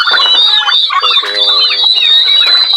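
Plymouth Rock chickens clucking and squawking close by in a pen, a busy overlapping chorus of chatter with a steady high-pitched peeping throughout.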